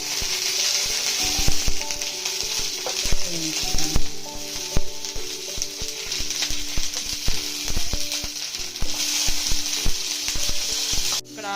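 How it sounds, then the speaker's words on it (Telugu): Green chillies frying in hot oil in a pan for coriander chutney, giving a steady loud sizzle with scattered pops and the clink of a stirring spoon throughout. "తర్వాత మిరపకాయలు వేసి"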